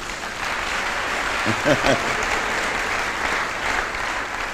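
A church congregation claps together in steady, dense applause, loud and continuous, with a few voices briefly rising above it.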